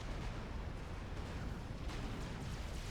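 Artillery fire in the real-time strategy game Supreme Commander: a dense, continuous rumble of distant blasts and muffled booms blending into a low roar at moderate volume.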